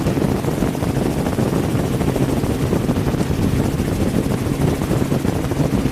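A helicopter flies over mud flats, its engine and rotor producing a loud, constant broadband roar that fills the whole stretch without a break.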